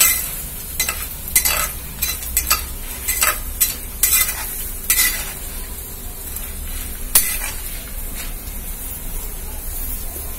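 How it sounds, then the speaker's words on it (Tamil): Ajwain and urad dal sauté in a pan, a soft steady sizzle with repeated scraping stirs of a spatula near the start, then quieter frying. "இந்த ஓமம் எல்லாம் போட்டாச்சு. வதக்கிடுவோம் நல்லா."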